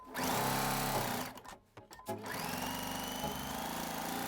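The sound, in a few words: sewing machine stitching straight lines for triangle grid quilting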